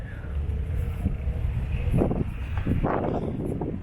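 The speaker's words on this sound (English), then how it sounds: "It's been windy all night." Wind blows outdoors at a motorcycle rally campsite, a steady loud low rumble buffeting the microphone with a couple of stronger gusts and no talking.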